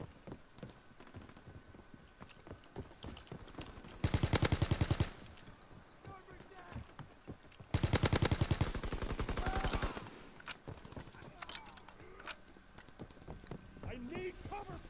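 Bursts of automatic gunfire in a World War II shooter video game, two dense rapid volleys of a few seconds each, loud against a background of scattered game sounds and talking players.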